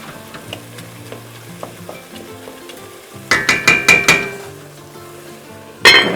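Ground beef fries in a pot and is broken up, with soft sizzling under a run of sharp, rhythmic metal utensil strikes and scrapes against the pot, followed by one more loud clank, and no talking.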